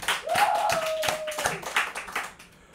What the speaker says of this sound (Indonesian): Tepuk tangan, woi.